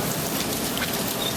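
Steady rain falls outdoors, a dense continuous hiss of drops on surfaces, fairly loud and even throughout with no voices.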